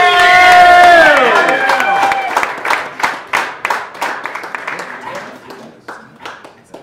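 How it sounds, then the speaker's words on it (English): A crowd at a live storytelling event cheers loudly at first, then settles into a run of sharp, rhythmic clapping that fades toward the end. "Let's start clapping right now for Reed!"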